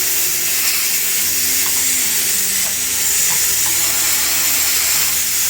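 Loud, steady hiss of steam escaping under pressure from a pressure cooker cooking chicken, continuous throughout with a faint low hum beneath.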